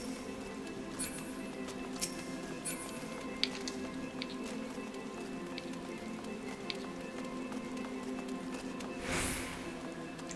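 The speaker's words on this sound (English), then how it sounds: "It's raining." Steady soft rain patters in the video game Final Fantasy XIV, a continuous gentle wash dotted with faint clinks and drips, with no one speaking.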